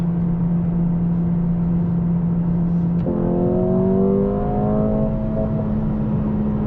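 A 2024 Mercedes CLA 35 AMG coupe accelerating in third gear in manual mode, heard from inside: a steady drone steps up at about three seconds into a rising, layered engine note that climbs smoothly over road noise, loud and close.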